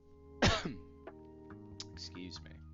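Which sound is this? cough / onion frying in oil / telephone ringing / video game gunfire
cough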